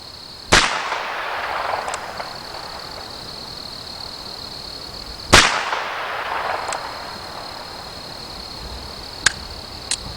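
Gunshots fired at a target at a shooting range, sharp reports with decaying echoes; two loud shots stand out, followed by fainter pops near the end, no talking.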